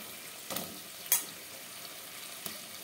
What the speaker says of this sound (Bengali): দিয়ে এবার বেশ কিছুক্ষণ আমি ভাজা ভাজা করে নেব